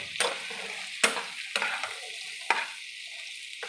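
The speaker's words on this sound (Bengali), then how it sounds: "লঙ্কা গুঁড়ো হলুদ গুঁড়ো মস্ত মশলা দিয়ে ভালোক্ষণ আমি ভালো করে কিছুক্ষণ নাড়িয়ে নেব" Chilli powder, turmeric, coriander and other ground spices are stirred and fried in katla fish oil, giving a soft sizzle broken by several sharp spatula scrapes against the pan.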